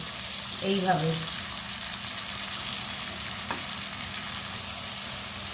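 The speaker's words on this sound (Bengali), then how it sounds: "ফ্লেমটাকে একটু বাড়িয়ে দিতে হবে, দিয়ে পেঁয়াজটা ভালো করে ভাজতে হবে" Onions fry in hot oil over a raised flame for a Bengali egg curry, giving a steady, even hiss with a brief stir-scrape near the start and a faint clink later.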